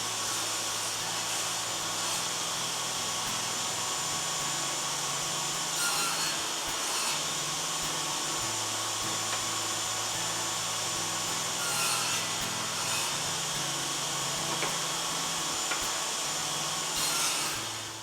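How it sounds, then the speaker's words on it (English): Table saw with a crosscut sled cutting tenon shoulders in wood: a steady loud motor whine throughout, with brief louder bursts as the blade bites the workpiece, close and without talk. "I'm now going to set up my crosscut sled to cut the 10-inch shoulders."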